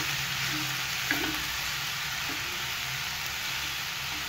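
Chopped spring onion sautéing in a hot pan, a steady broadband sizzle that holds evenly throughout with a couple of faint stirring knocks, close up and without talk.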